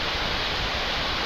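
Gwaneum Falls in the Seoraksan valley pours down in three tiers, a steady, dense roar of rushing water filling the air without a break, close and fairly loud.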